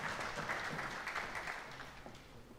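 Steady, dense clapping fills a school presentation ceremony hall as a student is honoured with a numeracy prize. The applause holds at an even level, then eases off slightly toward the end.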